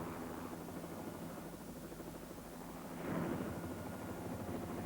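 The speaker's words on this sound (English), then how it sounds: "the helicopter sets off for Fort William Hospital" A Wessex helicopter drones steadily with a rapid rotor chop, heard from inside the aircraft, growing slightly louder partway through, flying over Glencoe.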